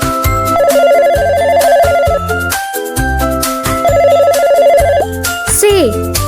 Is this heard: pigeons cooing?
no